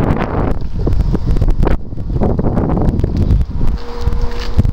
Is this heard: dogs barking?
no